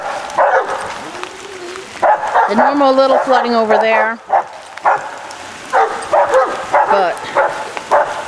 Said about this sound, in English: They're barking like fools